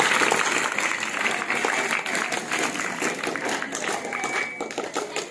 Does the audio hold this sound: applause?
yes